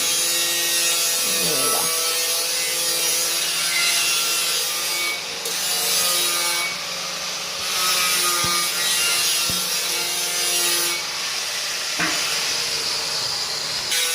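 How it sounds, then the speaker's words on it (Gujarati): Lapsi dough is stirred in a pot with a wooden rolling pin, giving a steady scraping, rubbing sound against a hissing background, with occasional knocks and a voice speaking. "હવે આપણે આ વેલણ લેવાનું છે અને વેલણ વડે સરસ હલાવી દેવાનું છે, મિક્સ કરી દેવાનું છે."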